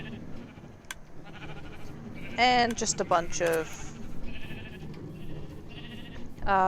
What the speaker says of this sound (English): sheep, all the colours being sheared